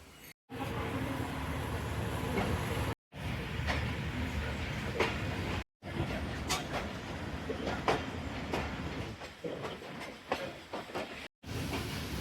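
A train stands or creeps at Narang Mandi station in Sheikhupura, Punjab, giving a low steady rumble with faint clanks, hisses and scattered clicks, broken by several short gaps of silence.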